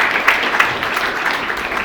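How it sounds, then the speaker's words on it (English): An audience at a charity comedy show in Lincoln claps and applauds, a dense, close patter of hands throughout with a few sharper claps standing out. "give yourselves a big round of applause for that"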